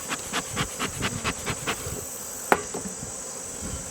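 Honey bees buzz on a hive frame in a steady, close insect drone, with faint rhythmic tapping and one sharp knock partway through.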